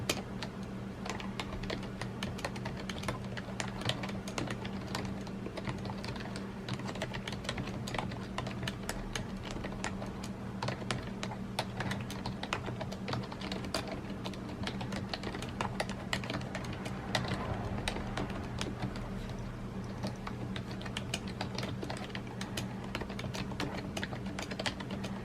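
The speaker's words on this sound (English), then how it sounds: "here's what the keyboard sounds like" Typing on a Logitech MK850 wireless computer keyboard: a continuous, rapid patter of soft, quiet keystrokes, close and steady for about 25 seconds with no talk.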